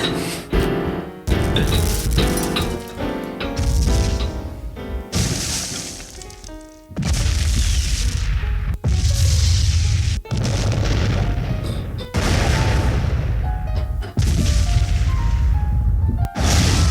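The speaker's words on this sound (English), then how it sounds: "It's an explosion" An explosion sound effect played on a podcast, a loud, dense series of booming, crashing bursts with breaking debris that roars on continuously for over fifteen seconds, with no voices over it.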